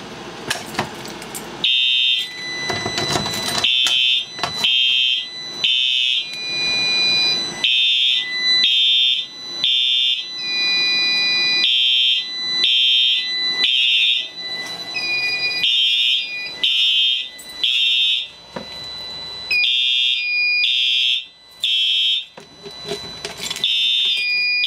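Fire-Lite MS-9600 fire alarm system sounding after a device is activated, with loud, repeated electronic horn blasts in a rhythmic pulsing pattern and brief gaps, continuing for over twenty seconds close by.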